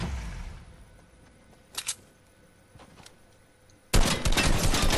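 Fortnite gunfire: a couple of faint distant shots, then a sudden loud, sustained burst of close shooting with a pump shotgun in the mix filling the final second.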